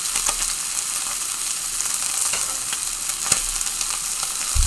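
Loud, continuous sizzling and crackling of peameal bacon frying in a pan, close up, with no talking.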